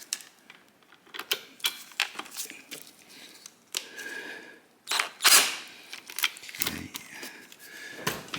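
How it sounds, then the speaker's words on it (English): Wrench work loosening a bolt on a 2006 Honda CRF450R motocross bike engine: a run of close, sharp metallic clicks and ratcheting ticks in irregular bursts, with a louder clatter in the middle. "Loosen this other bolt."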